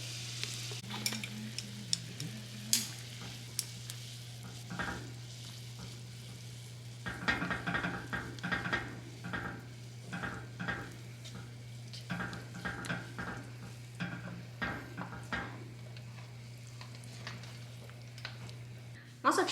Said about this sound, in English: I'm gonna use my chopsticks to work apart the noodles